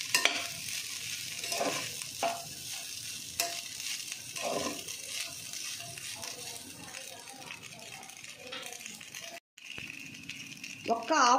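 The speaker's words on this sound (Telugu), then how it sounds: "హై ఫ్లేమ్లోనే కలుపుతూ ఉండాలి వీటిని" Chicken fried rice with sauces stirred in a pan over a high flame: steady sizzling and frying with scraping, rattling spatula strokes throughout, fairly close, with a brief gap near the end.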